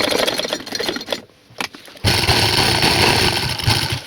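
A sewing machine sewing saree pleats onto buckram, a loud close motor drone running, pausing briefly for about a second, then resuming steadily to the end.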